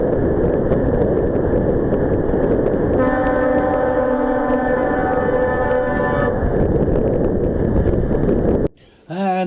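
A lorry horn blares loudly in road traffic, a long sustained harmonic honk lasting about three seconds over steady vehicle and road noise, followed by a brief burst of nearby talk at the end.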